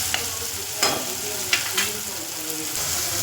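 Tomatoes fry for Khandeshi pithla, a close steady sizzle broken by a few sharp stirring scrapes and spatters.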